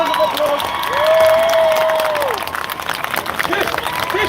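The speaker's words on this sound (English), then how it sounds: "Give yourself a round of applause." Crowd at an outdoor Free Gaza Palestine protest applauds and cheers, loud clapping mixed with shouts and a raised voice, fading into scattered claps.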